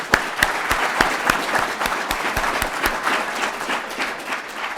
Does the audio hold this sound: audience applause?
yes